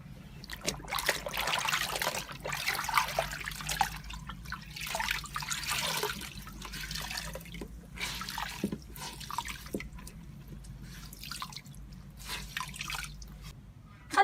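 Water trickles and drips steadily as a wet shirt is wrung out for tie-dye, a close splashing trickle with uneven surges and pauses.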